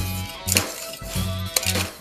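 Crushed ice is added to a cocktail glass with a few sharp clinks and rattles, a clattering burst near the start and another near the end.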